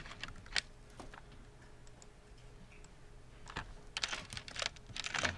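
Fingers tap on a computer keyboard in quiet, close bursts of clicks, sparse at first and then faster toward the end, with no talking.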